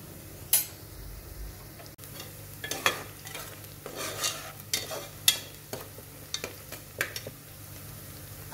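Onion fries in a pan until it turns pinkish, with a soft steady sizzle and irregular spatula scrapes and taps against the metal, heard close and alone.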